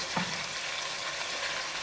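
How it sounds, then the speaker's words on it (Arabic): Chicken sizzling steadily in a pan of hot oil, a continuous close frying hiss with a brief stir or clink near the start and no talking. "صافي كتقلي الدجاج ديالها"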